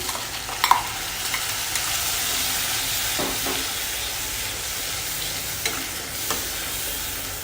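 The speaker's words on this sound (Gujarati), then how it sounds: "હવે આપણે જે ગ્રેવી તૈયાર કરી હતી એ ઉમેરી દઈશું." Prepared gravy is poured into a pan of dhaba-style dal khichdi, giving a steady, loud sizzle with scraping stirring throughout and a few sharper clinks near the start.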